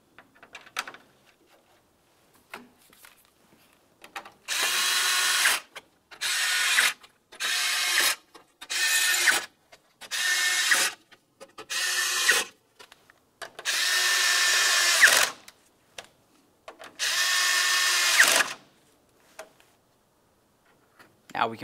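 A power drill snugs down 5.5mm front mounting screws on an AC condenser and receiver drier assembly of a 2009-2019 Ford Flex, running in about eight short whirring bursts separated by brief pauses and small clicks.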